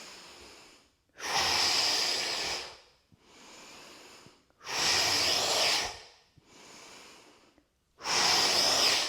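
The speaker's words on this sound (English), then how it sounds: "you breathe in and out. In through the nose, out through the mouth." Slow, deliberate breathing during a guided yoga and meditation session, with long airy inhales through the nose and longer exhales through the mouth, alternating in a calm, even rhythm of about six close breaths.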